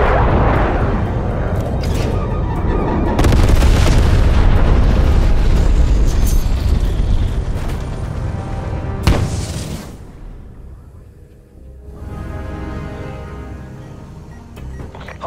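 Incoming artillery strikes pound down in Call of Duty: Black Ops Cold War, a long run of loud, heavy booms and rumbling blasts that crowd together, then ease into quieter distant thuds and debris.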